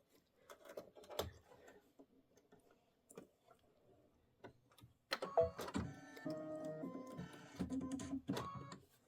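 A Kimberbell embroidery machine starts stitching a placement line on linen, a dense steady mechanical whir with rapid needle ticking that kicks in partway through after a few scattered handling clicks and taps.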